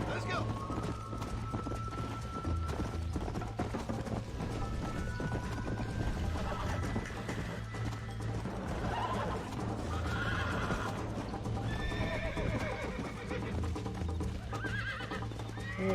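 A horse in Red Dead Redemption gallops with continuous, dense hoofbeats and lets out several whinnies and neighs partway through, amid a busy game soundscape and frequent talking.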